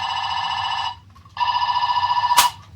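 A toy Power Rangers morpher stuck on its telephone setting gives out loud electronic ring tones, one long trill, a short pause, then a second trill ending in a sharp click.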